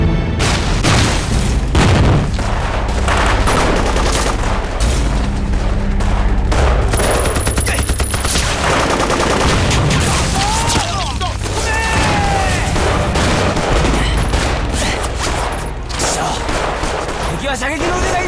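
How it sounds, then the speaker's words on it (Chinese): Heavy gunfire rages through a war film battle between Chinese troops and the Japanese army, with rapid shots, machine-gun bursts and booming blasts sounding continuously under shouted voices. "停止开火！ 停止开火！"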